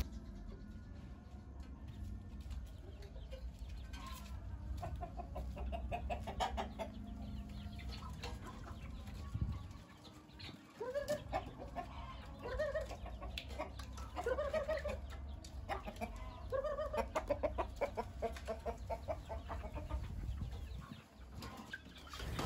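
Bangkok breeding hens clucking at feeding time on a farm, a continuous murmur of soft, rhythmic clucks from several birds, fairly faint and mid-distance, over steady low background noise.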